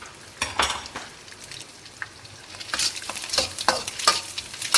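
Garlic stir-fried in a hot pan for egg fried rice, close-up sizzling with scraping, clattering strokes of a utensil against the pan, irregular and growing busier.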